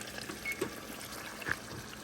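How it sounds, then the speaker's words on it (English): Water poured into tomato sauce in a home kitchen, a soft, steady trickling splash with a couple of faint clinks, quiet and continuous for a couple of seconds. "So I'm going to start adding water"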